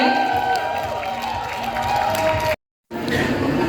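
An outdoor group, including pesantren students on a mountain-hike gathering, applauds and cheers in a dense, steady wash of clapping that breaks off briefly before resuming.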